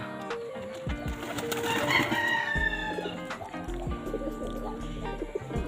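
Several pet birds in a loft clucking and calling close by, with a rooster-like crow and overlapping chatter in a busy enclosed space.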